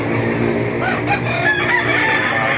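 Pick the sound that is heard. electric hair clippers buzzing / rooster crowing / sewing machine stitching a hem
rooster crowing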